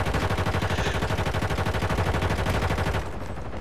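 Video-game gunfire coming from another building, a rapid and evenly spaced string of loud shots that runs for about three seconds and then cuts off.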